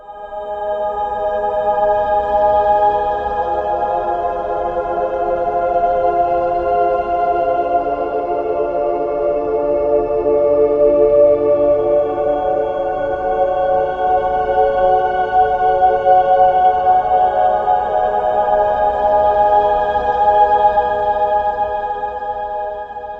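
A dark ambient atmosphere built with the New Nation Mesosphere virtual instrument for a haunted-ruins Halloween track, a loud, sustained layered drone of steady tones that swells slowly and holds throughout.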